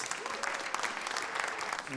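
Sustained crowd applause from an audience at the first semifinal of a Georgian League team competition, a dense, steady patter of clapping that fills the whole stretch at moderate loudness.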